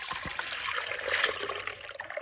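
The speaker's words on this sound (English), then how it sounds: "I pour the milk into the pot." Milk pours into a pot from India in a steady, close, trickling stream, a soft continuous liquid splash with no talking.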